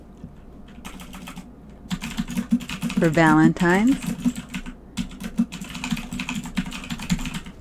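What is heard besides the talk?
typing fast on a computer keyboard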